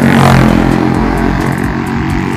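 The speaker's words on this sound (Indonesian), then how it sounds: "Bising banget kalau suara motor kayak gitu lewatnya" Noisy motorcycle passing along a road near a suspension bridge on the way to Alun-Alun Langgen Sari in Kota Banjar, a loud, close engine drone that peaks early and then steadily fades as it moves away.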